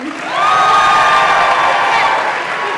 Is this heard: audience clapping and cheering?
yes